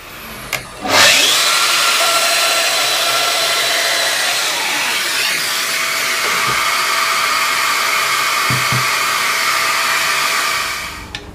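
A Festool Domino XL joiner cuts a mortise into the end of a wooden dead blow mallet for the handle. It gives a loud, continuous high whine that starts with a sharp bump, runs steadily for about ten seconds, then winds down.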